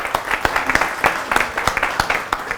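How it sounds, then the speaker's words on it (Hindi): Loud, dense applause from a studio audience at a Hindi news talk show, with sharp individual claps peaking steadily throughout and no other sounds present. "एक बार जोरदार तालियां हो नेहा जी के लिए"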